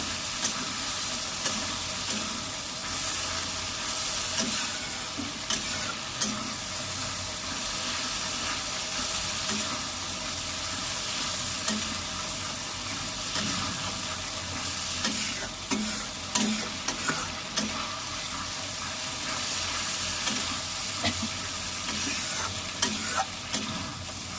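Spice masala for a katla fish curry sizzles steadily in a pan while a spoon stirs it, with repeated scraping taps and clinks over the continuous hiss of frying, close up and without talk.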